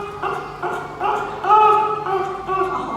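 A sub-Antarctic fur seal in an aquarium gives a run of harsh, barking yelps and wavering calls, close and fairly loud, in short repeated bursts.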